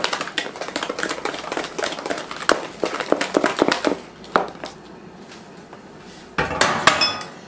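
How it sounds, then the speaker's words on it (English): A whisk clatters briskly against a bowl while cornbread batter with a few lumps is mixed, a rapid run of close metallic taps that pauses midway and then resumes in short bursts. "Use my whisk a little bit. Still got a little bit of lumps in it."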